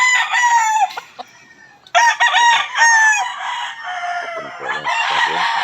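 Young Yellow Legged Hatch gamecocks about seven months old crow loudly and close by, with several overlapping crows and a short lull before more calls and clucks.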